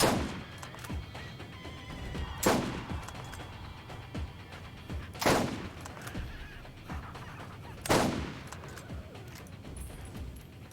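Gunfire in the video game Borderlands, heard as three or four sharp separate blasts spaced a few seconds apart over a busy background of game sound.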